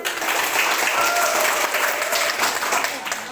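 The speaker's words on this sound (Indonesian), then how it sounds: "Ya, tepuk tangan dulu." An audience of teachers and students applauds together in a school program session, loud steady clapping that lasts throughout with faint voices beneath.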